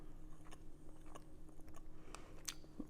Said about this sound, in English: Here's the corned beef. I'm going to take a bite of that.